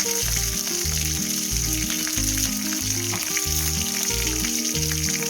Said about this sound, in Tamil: எண்ணெயில் நல்லா பொரியட்டும்.